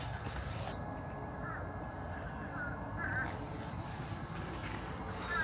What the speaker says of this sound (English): And you can hear these birds in the background.